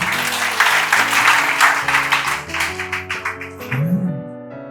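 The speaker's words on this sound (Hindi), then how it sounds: "इनके लिए जोरदार तालियां बजाइए अपनी।" Congregation applause during a Hindi church sermon by a pastor, loud clapping blended over sustained music, rhythmic and dense before thinning out near the end.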